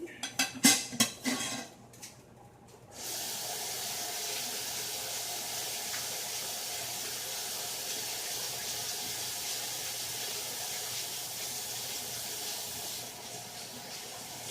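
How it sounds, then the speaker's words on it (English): Rice being washed in a strainer under running water for a beef stew and white rice meal: a few clattering knocks at first, then a steady, fairly loud hiss of flowing water that carries on alone. "what I'm going to do is wash my rice in the strainer."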